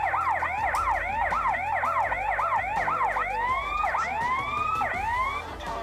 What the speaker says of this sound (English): When you double tap it, you've got like sirens.